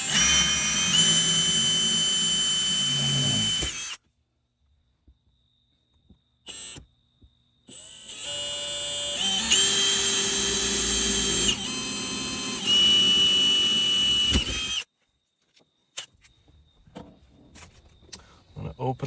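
A power drill opens up a hole in the dash bar of a 1996-1998 Jeep Grand Cherokee ZJ for a 5/16 rivet nut. Loud close whining runs come in several bursts separated by silent pauses.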